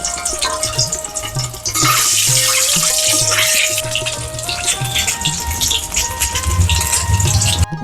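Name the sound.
two eggs frying in hot oil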